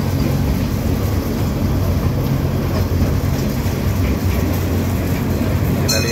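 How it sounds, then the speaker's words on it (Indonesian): A mini train ride around Jungle Land park in Sentul City, Bogor, Indonesia, rumbles steadily and loudly from on board, a continuous low engine and rolling drone with no breaks. "ini perjalanan dari kereta mini di seputaran Jungle Land ini"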